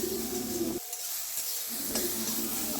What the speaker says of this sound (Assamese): ভালদৰে আৰু অলপ সময় ভাজি লৈছোঁ